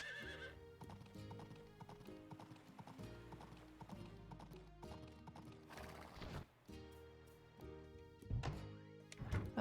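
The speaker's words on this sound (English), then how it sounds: "Come here, horsey. Horsey!" Horse hooves clip-clop in steady rhythmic steps in the farming video game Story of Seasons: Olive Town, with a whinny, soft game music and thuds, all quiet and close.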